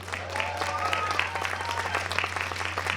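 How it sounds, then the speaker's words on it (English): An audience at a Pride flag blessing ceremony applauds the Quincy Choral Society with moderate, steady clapping over a constant low electrical hum, with faint voices mixed in. "this is going to need a round of applause"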